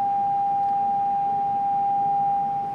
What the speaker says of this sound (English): So what you are hearing is the 800 Hz sound wave produced by the speaker.